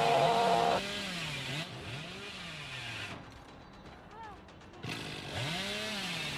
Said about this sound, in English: Pretty much if you spam your chainsaw